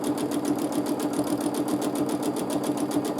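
A sewing machine stitches rapidly during free motion quilting, producing a fast, even mechanical chatter of needle strokes close by, steady throughout with no voices.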